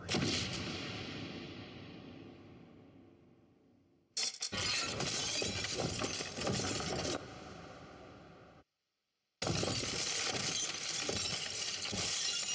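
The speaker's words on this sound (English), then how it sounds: "Our first version of this was a big stone crashing, big stone crumbling" Film sound effect of a large stone tower crashing and crumbling, built from loud layered bursts of shattering debris and scraping rubble that fade, then cut off abruptly and restart twice in full force.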